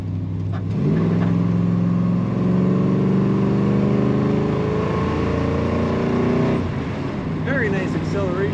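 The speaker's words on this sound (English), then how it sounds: "Very nice acceleration in this car." A 1955 Dodge Coronet engine revs up loudly on a highway and climbs steadily through the gears, the pitch rising for several seconds before easing off, with a brief shift near the end.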